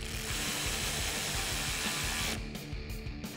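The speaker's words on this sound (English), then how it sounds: "Grab your 10 millimeter socket and tighten them down." A power tool with a 10 mm socket tightens headlight bolts on a RAM 1500, whirring steadily up close before cutting into a few short bursts at the end.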